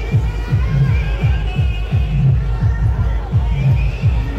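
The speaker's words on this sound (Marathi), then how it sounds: "गर्दी भरपूर हा कोल्हापुरात." Crowd at a Ganesh immersion procession in Kolhapur, a dense hubbub of voices over a steady throbbing low beat, loud and continuous throughout.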